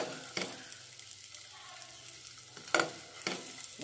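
Boiled eggs sizzle in hot oil in a pan while a spoon turns them, a steady fry hiss broken by several sharp scraping stirs, close and without talk.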